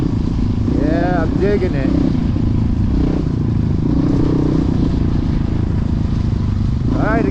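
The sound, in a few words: Honda CRF450X dirt bike riding in snow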